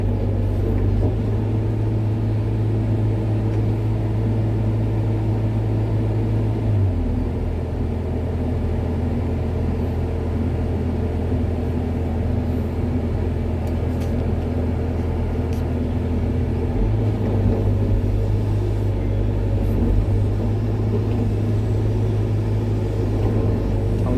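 A Hitachi excavator digging hard soil, its diesel engine droning steadily up close and shifting pitch as the load changes, with faint clanks over the engine noise.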